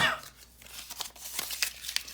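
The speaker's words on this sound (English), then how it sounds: "crumpling up everybody's names" Small paper slips bearing names are crumpled by hand, giving a near, scratchy crinkling that comes in bursts over about two seconds with faint room noise in the background.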